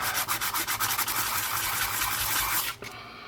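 Rhythmic rubbing and sanding on the edge of a coin ring made from a 1968 Canadian 50 cent piece, a steady close abrasive scrape with quick strokes that stops near the end.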